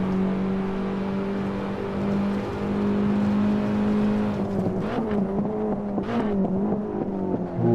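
Race car engine in Assetto Corsa holding a steady high drone, then revving and blipping through several quick downshifts with pitch swings near the end, loud and continuous with no talk.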